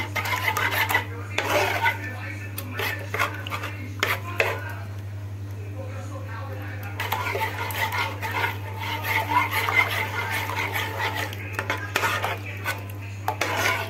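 A spoon scrapes and clinks against a bowl as an egg mixture for an Egyptian omelette (eggah) with a spoon of vinegar is stirred and mixed, steady irregular scraping over a constant low hum, close and moderately loud.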